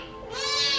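A kitten trapped deep in a ten-metre drainage channel gives a single rising, plaintive meow, close and clear, starting softly and swelling in strength.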